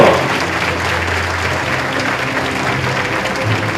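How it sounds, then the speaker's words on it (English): Sustained audience applause at an international judges' association annual meeting, thanking a president after her speech; a loud, even roar of clapping with a faint low hum beneath. "we would like to thank her with applause"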